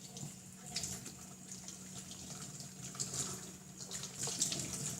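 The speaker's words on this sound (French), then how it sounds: "Et après, on rince le tout." Tools used with polymer clay paste are rinsed under a running tap. The water pours in a steady, close splashing stream, with small spatters and knocks throughout.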